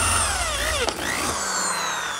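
A power drill with a 5.5 mm bit bores a hole through a metal angle bracket for a small door, a loud, close whine whose pitch slides down and then holds steady.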